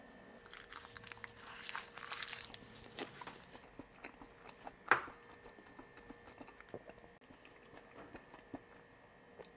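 Someone eats spicy marinated raw crab (yangnyeom gejang) close to the mic, with wet crunching and biting. The chewing has crackly bursts and one sharp crack near the middle, then quieter mastication follows.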